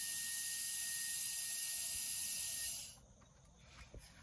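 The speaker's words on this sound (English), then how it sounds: "we're going to take our propane torch with the end on it, stick it up the hole, let it run about 4 seconds" Propane torch with a nozzle end hissing gas into the end cap of a percussion cannon, a strong steady hiss close up for about three seconds before it cuts off, followed by faint handling clicks.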